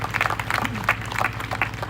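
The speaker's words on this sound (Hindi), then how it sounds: "ताली तो बजा दो यीशु के लिए" A church congregation applauds during a Hindi sermon, with a short burst of scattered claps under a low steady hum and a brief murmur of voices.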